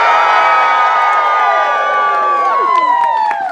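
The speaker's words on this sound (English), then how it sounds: "When I say you should cheer now, you need to go insane." A large theatre audience at a Shakespeare comedy show roars with sustained cheering, whoops and high shouts, loud and dense throughout with some clapping mixed in.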